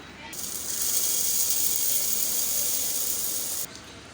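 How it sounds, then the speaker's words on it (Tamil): An electric mixer grinder runs in one continuous, loud whirring hiss for about three seconds, grinding roasted green gram, urad dal, chana dal and sesame seeds, then cuts off abruptly. "இப்போ இது எல்லாத்தையும் சேர்த்து நம்ம நான் மொத்தமாக நல்லா பொடியை அரைச்சி எடுத்துக்கலாம்"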